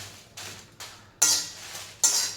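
Red chillies being dry-roasted in a pan for garlic pickle, with repeated metallic scraping and stirring strokes in four separate bursts, close by and with no talking.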